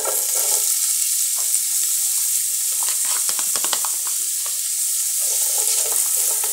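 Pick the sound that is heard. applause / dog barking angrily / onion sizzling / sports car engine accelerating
onion sizzling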